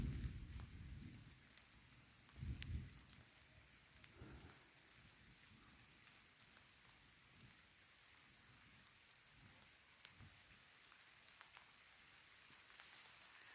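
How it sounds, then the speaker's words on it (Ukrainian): Soft, steady drizzle patters faintly in a quiet forest of young oaks, maples and hazels, with a few low rumbling thumps near the start. "Дощ моросить."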